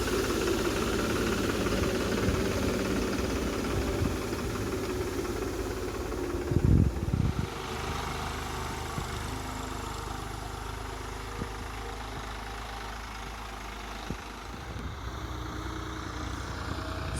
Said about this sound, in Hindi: ट्रैक्टर स्टार्ट हो गया है।